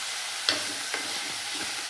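Green chilli, ginger and curry leaves fry in hot oil in a pan, giving a loud, dense, continuous hiss and sizzle with a couple of brief stirring knocks, close up and without speech.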